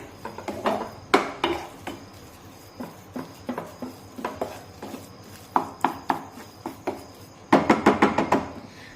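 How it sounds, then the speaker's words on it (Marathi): Repeated clinks and scrapes of a utensil stirring mango pulp for mango sheera in a kadhai, irregular taps with a quick cluster near the end, close by and no speech. "तर आता हा रस व्यवस्थित मिक्स करून घेऊया"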